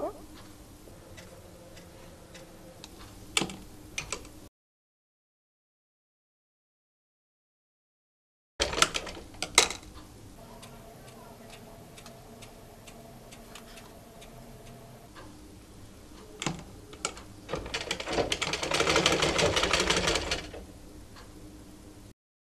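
A sewing machine stitches a raglan sleeve onto a baby frock, running in quick rhythmic ticking bursts broken by a silent gap, then a longer, louder run near the end, heard close up with no talking.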